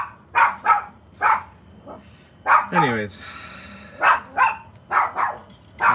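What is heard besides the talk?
puppy barking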